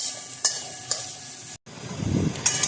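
A mixture with coriander leaves is sautéed in a pan: a soft, continuous sizzle with a few scraping stir strokes, a brief dropout midway, then a fuller frying hiss, with no voices.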